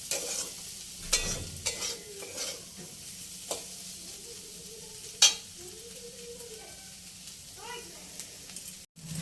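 Masala sweet corn stirred in a pan, with a low steady sizzle and several sharp scrapes and clinks of a spoon against the pan, some soft squeaky scraping strokes mid-way, recorded close with no talking.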